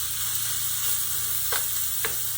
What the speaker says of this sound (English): So the vegetables are cooking down nicely.